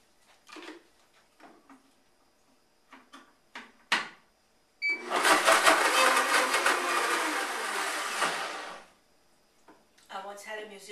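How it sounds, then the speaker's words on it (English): A loud blender roars for about four seconds, preceded by scattered clicks and knocks and followed by a voice speaking nearby. "It is a loud blender"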